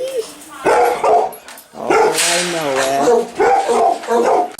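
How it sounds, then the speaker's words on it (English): Rescue puppies in a front puppy room barking and yipping in bursts with some whimpering, close and loud, while a person speaks briefly over them. "here's the front puppy room with these big guys up here"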